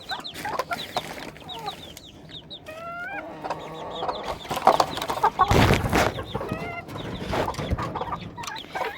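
A laying hen clucks repeatedly close by, sharp rising clucks coming in irregular bursts with short pauses, plus a loud rustling scuffle in the middle, no talking.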